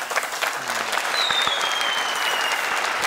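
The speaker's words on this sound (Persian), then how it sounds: "شما دوستان هم خوب تشویقشان بکنید" Studio audience at a television game show applauding the contestants, dense steady clapping filling the room, with faint electronic tones sliding through the background.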